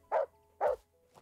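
Two sharp dog barks from the video game Animal Shelter Simulator, about half a second apart, close and clear, with a faint third yap trailing at the end.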